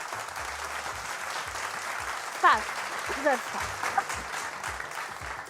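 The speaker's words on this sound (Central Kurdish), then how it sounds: "چەپڵەیەک بۆم هاوڕێم بکە؟" A studio audience at a Kurdish TV quiz show claps steadily, a dense wash of applause running the whole time under a voice speaking briefly.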